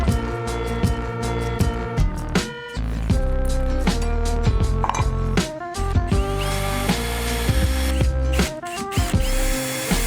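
Power tool driving bolts to fasten a block in place in a garage wash bay build, loud close whirring bursts with pitch changes and short pauses between runs.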